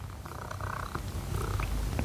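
A cat purrs close by, a soft rhythmic rumble with light rustling over it.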